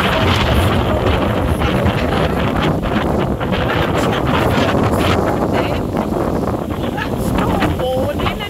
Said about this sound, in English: It is nice and cool, but very windy.